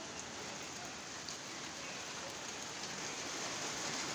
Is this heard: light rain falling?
yes